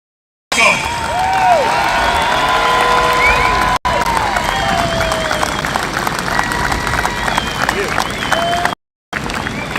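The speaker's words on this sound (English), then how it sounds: "let's give a round of applause" Loud, sustained crowd applause with cheering and shouts mixed in at an outdoor softball tournament, continuing across the whole stretch apart from a brief cut near the end.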